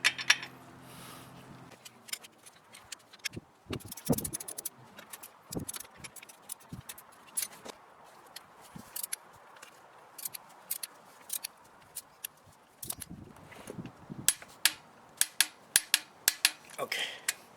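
A torque wrench tightens the motor mount bolts on a 1987-1990 B12 Nissan Sentra, giving sharp, scattered metallic clicks and ratchet snaps at close range, ending in a quicker run of crisp clicks.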